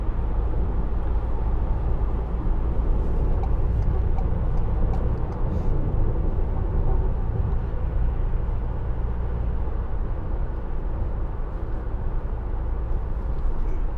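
Ford Transit Custom 2.0 TDCi van driving unloaded, with a steady low rumble of road and engine noise heard from inside the cabin, constant and moderately loud throughout.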